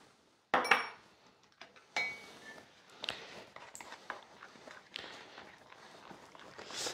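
Brioche ingredients, flour, sugar and salt, are stirred by hand in a bowl, giving quiet, irregular scrapes and soft clinks, with a sharper knock near the start and faint scuffs after.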